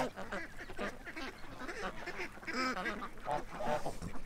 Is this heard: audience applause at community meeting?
no